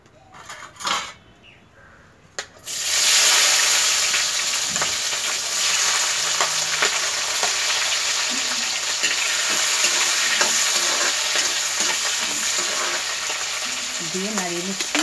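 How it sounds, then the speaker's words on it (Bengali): Onion, tomato and chillies hitting a hot pan, a brief quiet clatter first, then a loud sudden burst into steady, dense frying sizzle with occasional stirring scrapes and a faint voice near the end. "আর দেখুন আমি পেঁয়াজগুলো এই যে এরকম সাইজের করে কেটে নিয়েছি, আর টমেটো কেটে নিয়েছি।"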